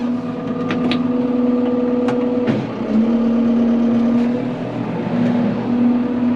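A tractor engine runs steadily close by while mowing frost-damaged alfalfa, its low drone dipping briefly then rising again as it revs up, with a few clanks over it.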